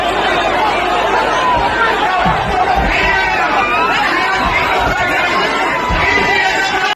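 A huge outdoor crowd gathered for politician Raja Singh, a dense, loud babble of many voices and shouts that continues without a break, close and overwhelming.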